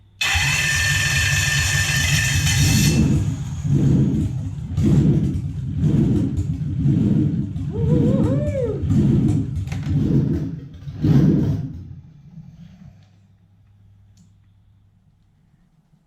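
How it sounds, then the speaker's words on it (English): A Toyota 1UZ V8 on a Link ECU with stock ignition leads, not yet running quite right, cranks and catches, then revs repeatedly in rhythmic surges for about ten seconds before the sound dies away to a faint hum. "This engine's been run up and tested, and you'll notice it wasn't running perfectly like it should yet"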